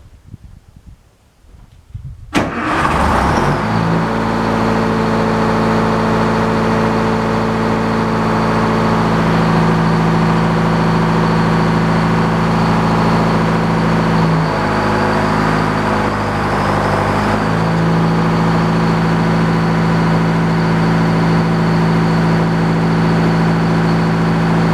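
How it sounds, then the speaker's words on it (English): An old Frick sawmill engine cranks and catches after a quiet start, then runs loud and steady at a constant pace, with a slight dip in pitch midway and no voices over it. "So I'm going to go ahead and start the engine"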